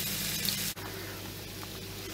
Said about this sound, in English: we're going to roast up these sweet potato or kumara in the frying pan